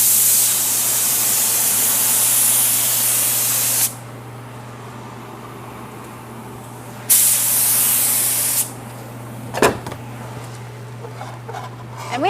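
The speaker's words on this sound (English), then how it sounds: "And we spray at about 17 psi." Bursts of loud, steady hissing from a paint spray gun at about 17 psi spraying black carbon and charcoal metallic paint, stopping and starting several times, with a few clicks and knocks between passes.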